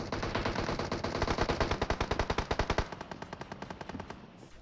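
An M762 rifle fires in PUBG Mobile, a loud rapid stream of automatic shots for about three seconds, then quieter, sparser shots that fade toward the end.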